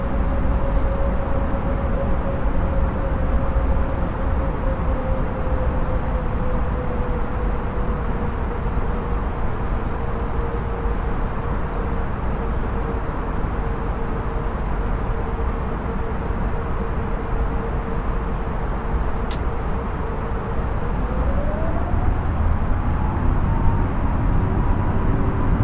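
An Airbus A320 flies low through the Mach Loop in a flight simulator, its engine roar a steady, loud drone with a slowly falling tone that rises again near the end, with no speech.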